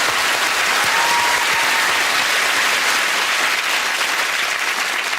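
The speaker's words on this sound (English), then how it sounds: "I think they deserve a round of applause from us" A studio audience on the panel show QI claps in loud, dense, sustained applause that fills the whole stretch evenly, with no speech over it.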